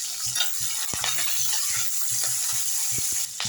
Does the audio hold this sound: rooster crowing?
no